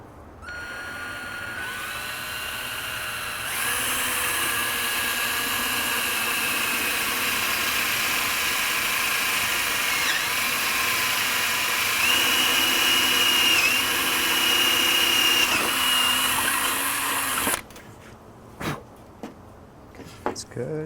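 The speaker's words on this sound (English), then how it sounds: "I got a little larger drill bit here because these are taking those larger carriage bolts" A power drill runs steadily with a larger bit, boring holes for carriage bolts during an arcade cabinet repair, a loud continuous whine with rising pitch that cuts off near the end, followed by a few scattered knocks.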